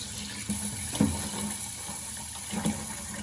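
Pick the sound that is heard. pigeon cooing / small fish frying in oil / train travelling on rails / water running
water running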